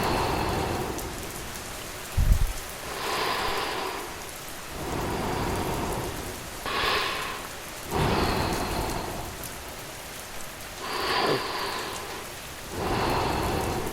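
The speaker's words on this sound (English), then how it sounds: "The rain is falling softly." Soft steady rain falling during a storm, with a gentle continuous patter and a few brief louder swells; one low thump like distant thunder stands out early.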